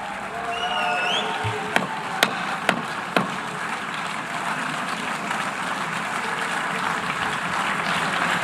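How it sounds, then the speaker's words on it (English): Scattered applause rises in the UN General Assembly hall as Netanyahu comes to speak, a broad soft crowd wash with a few sharp, distinct claps early on, heard from a distance. "You got people clapping"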